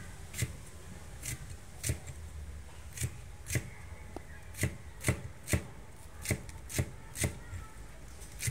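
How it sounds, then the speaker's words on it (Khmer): Spring onion leaves chopped with a knife while making Khmer fried rice with sausage and duck egg: a close, steady series of sharp blade strikes on a board, about a dozen crisp knocks in an uneven rhythm, with no talk. "ជាបន្ទាប់យើងធ្វើការហាន់ស្លឹកខ្ទឹម"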